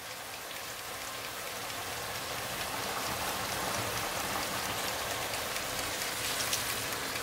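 Tap water runs steadily in a home kitchen to fill a coffee cup for cooking pasta, a continuous hissing stream that grows slightly louder, with no talking.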